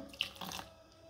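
A short, soft splash of water, saved from soaking lentils and rice, poured into idli batter; quiet and over in under a second.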